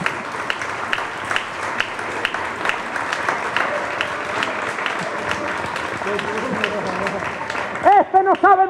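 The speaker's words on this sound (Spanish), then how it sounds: "Tú tienes ganas de aplaudir, ¿eh?" An audience applauds at an autumn cultural festival presentation, a steady, continuous round of clapping filling the hall, with a voice breaking in near the end.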